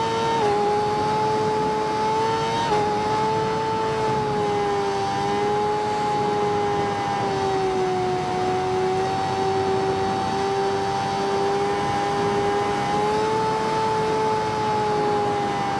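A motorcycle in a highway-riding video game holds a loud, constant engine drone at high revs. The pitch wavers only slightly, and there are no voices over it.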